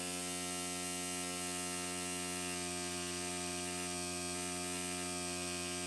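Tattoo machine running steadily while lining with a 111-needle grouping at low voltage, a continuous buzzing mechanical hum, even and unbroken, heard close and fairly quiet.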